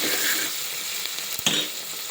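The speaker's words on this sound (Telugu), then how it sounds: "బ్రౌన్ గోల్డ్ కలర్ వచ్చేంత వరకు వేగనియాలి." Onions sizzle steadily in hot oil with a little coriander for a spicy mutton curry, a close, even frying hiss with a brief stirring scrape near the middle.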